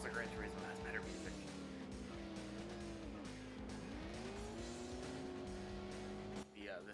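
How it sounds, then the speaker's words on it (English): Race car engines rev and whine with sliding pitch while tires squeal through turns in the World Driver Championship video game, a steady mix of motor drone and skidding, heard under talking. "The sounds of the cars actually sound way better than just the music."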